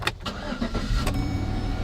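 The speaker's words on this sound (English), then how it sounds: "You hear a V8 engine humming along." A V8 car engine runs at a steady, close, fairly loud hum, with a couple of brief sharper knocks near the start and no talk.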